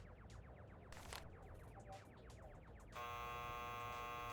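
A harsh electronic buzzer in Nancy Drew: The Phantom of Venice kicks in abruptly after a stretch of chirpy, fluttering game sounds, holding a loud steady drone to the end.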